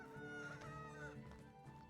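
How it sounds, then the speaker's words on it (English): Chickens in the farm-life game Medieval Dynasty cluck in a short burst of rising and falling calls, quiet and close, without any talk. "Chickens to the right."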